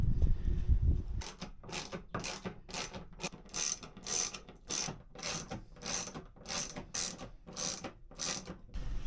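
A ratchet wrench clicks in a steady back-and-forth rhythm while a fitting is unscrewed aboard a boat, a dozen or so crisp bursts of ratcheting close by with a low rumble at the start.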